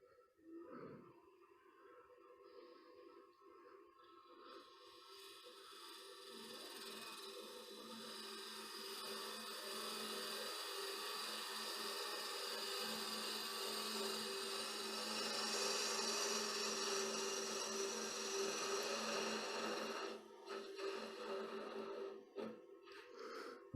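A wood lathe parts away half of the thread on a turned wooden box lid, giving a steady whining, scraping cut that swells louder and rougher midway before easing near the end, with no talk.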